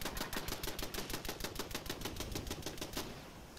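Automated turrets in Fallout 76 firing a steady rapid burst of gunshots, loud and close, with the rattling stream running continuously before easing off near the end.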